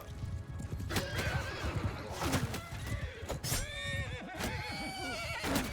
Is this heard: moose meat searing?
no